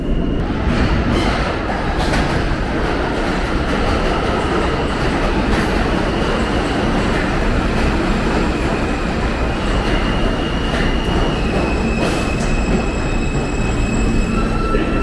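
A New York City G subway train rumbles loudly and continuously, with metallic squeals and clatter from the wheels rising over the roar.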